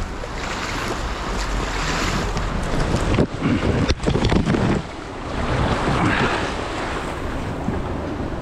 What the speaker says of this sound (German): Auf so einen strömenden Fluss bin ich auch noch nie gefahren.